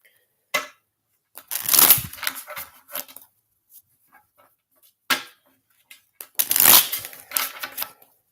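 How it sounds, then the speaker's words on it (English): Tarot cards are shuffled by hand in close, crisp bursts of riffling and slapping, two main flurries separated by quieter pauses and a few light taps. "Four more shuffles."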